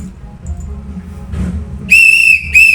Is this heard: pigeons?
no